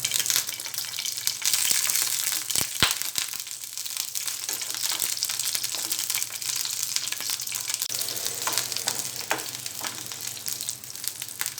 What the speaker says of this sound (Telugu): ఆయిల్ వేడిన తర్వాత పచ్చిమిరపకాయలు ఫ్రై చేసుకోవాలి